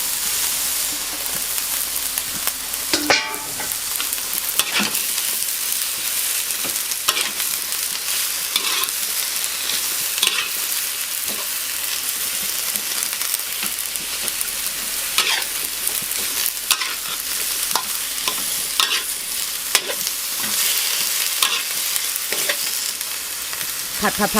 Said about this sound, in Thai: ผัดให้บกฉ่อยนั้นสลดนิดนึงนะคะ